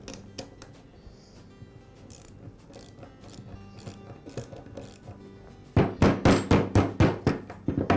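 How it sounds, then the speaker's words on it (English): A wrench loosens the bolt securing a clamp to a shaft: quiet metallic clicks and handling at first, then a loud, close run of rapid ratcheting clicks in the final seconds. "Next, I'll loosen the bolt that secures the clamp to the shaft."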